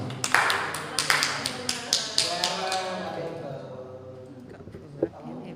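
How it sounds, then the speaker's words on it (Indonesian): Applause for Pak Suna at an Indonesian teacher training dissemination session: a burst of clapping and taps at the start that thins out over a few seconds, with talk under it. "beri aplaus dulu Pak Suna"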